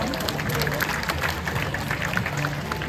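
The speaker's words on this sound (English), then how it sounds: "So how about a big round of applause of encouragement for Kismet?" Audience applause at a tiger show at Six Flags Discovery Kingdom's Temple of the Tiger, a steady dense clapping from a crowd lasting throughout, moderately loud and continuous.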